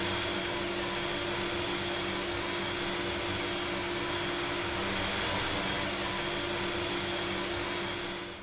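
A 22W blue diode laser engraver at work on plywood gives off a steady, fairly quiet whirring hum with constant airy hiss from its fan, unchanging throughout.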